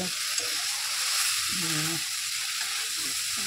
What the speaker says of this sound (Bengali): দেখো ভালো করে কষানো হচ্ছে